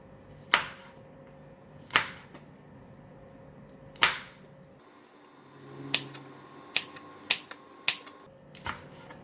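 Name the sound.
knife slicing green chillies for pickling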